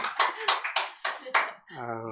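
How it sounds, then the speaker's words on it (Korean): Church congregation clapping together during a Sunday worship service, several loud rhythmic bursts of claps in a row before a voice begins speaking. "다시 한번 박수하겠습니다."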